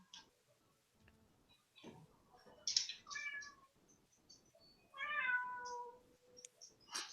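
A cat meows several times, quiet and somewhat distant, with soft clicks and shuffling noises between the calls and no talking.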